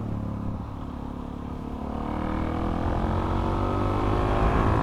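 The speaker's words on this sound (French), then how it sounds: "Le moteur reprend bien" A Suzuki DRZ 400 SM single-cylinder motorcycle engine, around 40 horsepower, pulls up through the revs, a steady close drone whose pitch climbs gradually and grows louder as it accelerates.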